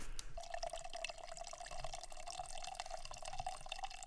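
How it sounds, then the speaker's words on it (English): Water flows and trickles in a shallow creek at an outdoor overnight campsite, a steady faint babbling with drip-like splashes running throughout, close by and alone with no talk. "You can see water flowing right there."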